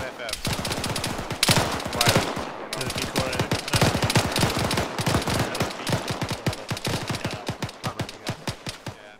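Rapid gunfire from the Arma 3 combat game cracks in dense automatic bursts and single shots, loud and close, continuing almost without pause while players talk over it.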